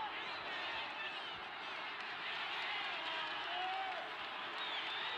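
A boxing arena crowd keeps up a steady, distant roar of cheering and applause throughout, with a commentator's voice running faintly underneath.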